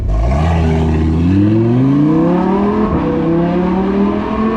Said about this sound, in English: I think it's my turn to take it the R8 for some drifting